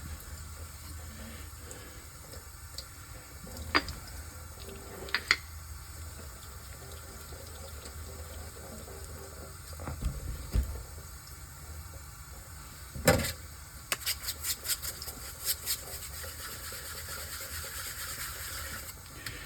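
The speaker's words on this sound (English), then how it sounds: "This is cold water." Cold water runs steadily from a tap during sharpening-stone preparation, a continuous soft splash with a few knocks and clinks near the end.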